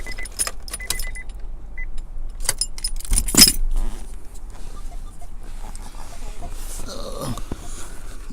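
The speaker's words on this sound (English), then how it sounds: "Let's just take the keys off." Car keys jangle as they are pulled from the ignition of a 1997–2002 Honda Accord, a close metallic clinking burst with a sharper rattle in the middle, over a low steady hum.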